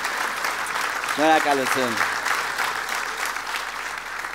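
Audience applause at an Armenian stand-up comedy show fills the whole stretch as steady, dense clapping, with a voice briefly speaking over it near the start.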